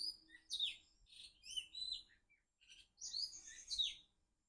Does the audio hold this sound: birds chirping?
yes